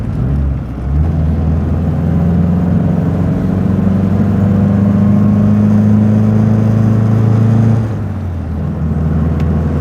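MG Magnette ZB classic fifties sport saloon with a B-series engine, heard from inside the wood-and-leather cabin while driving: a steady, loud mid-pitched engine drone that swells under acceleration, then eases off briefly near the end.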